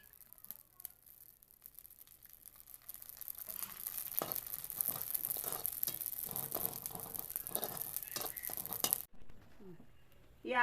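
Whole spices, shahjeera and mustard seeds, frying in a little oil in a home kitchen, with a soft steady sizzle and light clinks of a spoon or pan building up and then stopping abruptly near the end.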